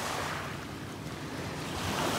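Choppy lake water churned by many passing boats, a steady broadband wash of lapping waves with wind buffeting the microphone, continuous and fairly close throughout.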